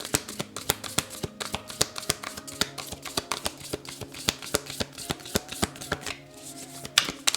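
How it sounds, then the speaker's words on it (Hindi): Tarot cards being shuffled by hand: a steady, close train of sharp card slaps and riffles repeating evenly for several seconds over a faint background hum, with no speech. "तो शफल करते हैं कार्ड्स को।"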